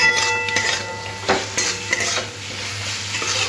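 Potatoes stir-fried with spices in a pan for a Bengali katla fish curry, with stirring scrapes and clicks of a spatula over a steady low sizzle, fairly close and moderately loud.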